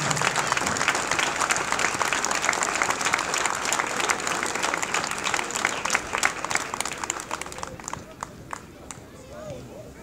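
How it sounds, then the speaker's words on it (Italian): A football-pitch crowd applauds the families of earthquake victims before a match between Pomezia and Unipomezia, with dense, sustained clapping that slowly thins out toward the end. "Facciamo un applauso, grazie."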